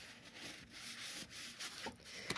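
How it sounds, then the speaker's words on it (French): Playing cards handled close up, giving a steady papery rubbing and shuffling texture with a few sharper flicks near the end, no talk. "j'adore le bruit des cartes"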